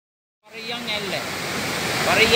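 Parayiyan Ella waterfall roars in a steady, broadband rush of falling water that starts abruptly after a short silence and stays loud and continuous.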